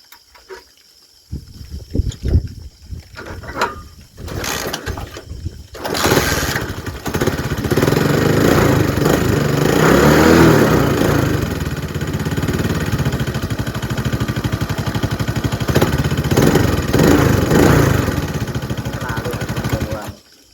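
A motorcycle engine runs steadily at close range for most of the stretch, a continuous mid-pitched drone after a few brief knocks and bumps at the start, with faint voices now and then.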